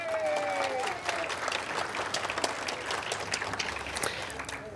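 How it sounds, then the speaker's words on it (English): An audience at a historical museum event claps warmly for the staff, a steady burst of many hands that tapers slightly, with a faint voice briefly at the start. "a round of applause for my staff"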